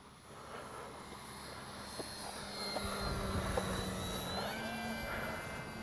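An Avios Kobuz 2.2 m RC jet plane sweeps past at about half throttle, its steady turbine whine rising as it nears, with a faint tonal shift at the closest point.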